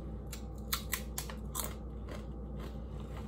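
Homemade tortilla chips crunched while eating, a few light, sharp crackling bites spread over a steady low background hum, fairly quiet and close, with no talking.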